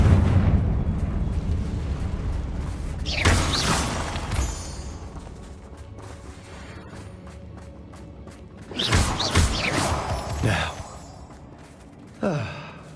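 Confringo blasting spells burst in Hogwarts Legacy, with two loud explosive bursts around a few seconds apart and a shorter third blast near the end, over a low game ambience.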